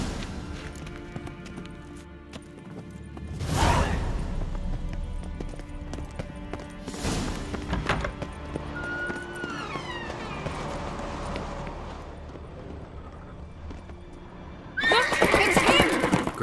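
A horse whinnies loudly, hooves clop over a steady backdrop in The Witcher 3, then a second sharp neigh cuts in at the end.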